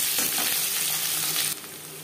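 Chopped onion sizzles and fries in three spoons of hot refined oil, a steady close crackle that runs throughout and eases slightly toward the end, with no talking.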